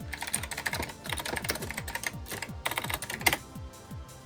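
Typing on a computer keyboard connected to an IBM mainframe session over dial-up, rapid close clicks in uneven bursts with short pauses, alone without talk.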